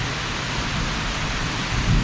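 A severe evening thunderstorm in Southeast Michigan brings heavy rain, a steady close roar of downpour with a low thunder rumble swelling near the end.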